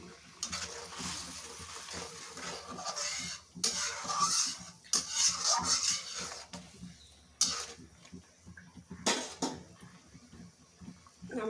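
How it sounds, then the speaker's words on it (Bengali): Maltese orange chutney stirred in a pan, with bursts of spoon scraping and clinking against the metal, broken by short pauses and some watery sloshing. "ভালো করে নেড়ে চেড়ে নেব।"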